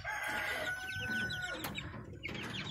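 Cochin chicken clucking on a farmstead, a run of quick soft clucks close by, joined by a tonal call and other fowl sounds around it.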